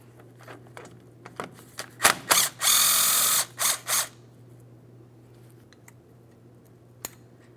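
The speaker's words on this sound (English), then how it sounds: "So now for this, we're going to have an extended T50 because we have to get deep in this area." A ratchet with an extended T50 Torx bit works the front brake mounting bolts on a Ford Transit 250, giving scattered close clicks and a short sustained whirring burst before tapering to sparse ticks over a low steady hum, with no talk.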